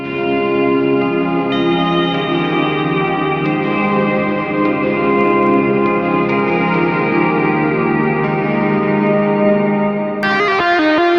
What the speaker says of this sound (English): when I needed a nice big fat ambient tone